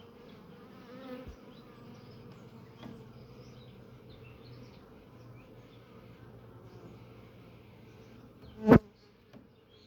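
Honeybees hum steadily around a Kenyan top-bar hive that is filling with honey, a continuous close buzz with a sharp knock near the end.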